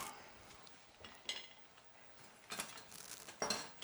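Ceramic bowls and metal cutlery clinking quietly while clams and linguine are plated, a few light scattered chinks and taps in a calm kitchen with no talking.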